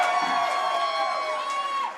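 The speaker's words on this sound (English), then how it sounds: "Let's give a big round of applause" Crowd cheering and whooping at a New York Communities for Change gala honoring Governor Cuomo, a steady loud wash of voices with sustained tonal ringing over it, fading slightly at the end.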